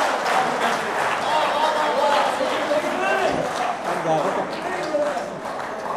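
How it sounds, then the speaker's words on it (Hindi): An audience applauds and cheers at a live stage show to welcome a performer, a dense, continuous wash of clapping with crowd noise under a voice speaking throughout. "आप सब की भरपूर तालियों में कमर अब्बास, भरपूर इस्तकबाल कीजिएगा कमर अब्बास का।"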